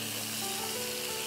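Chicken frying in a pan for Bengali black pepper (kali mirch) chicken, a dense, steady sizzle that holds close and loud throughout, with no voices.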